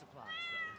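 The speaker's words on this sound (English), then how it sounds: "Kitty cat." A cat meows once, close by: a short, clear, rising and falling call over quiet background.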